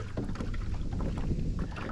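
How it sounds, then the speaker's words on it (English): Choppy lake water slaps steadily against the hull of a small fishing boat on a windy spring day, a close, continuous sloshing churn with wind buffeting the microphone. "You can hear that water slapping on the hull of the boat."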